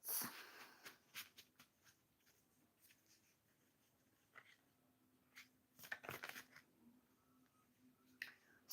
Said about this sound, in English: let me just shuffle the cards